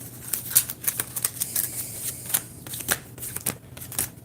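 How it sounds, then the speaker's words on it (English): A deck of Yu-Gi-Oh cards is shuffled close up, giving a rapid, irregular run of crisp riffling snaps and flicks that continues throughout. "let me shuffle the God card deck as well, just to be fair."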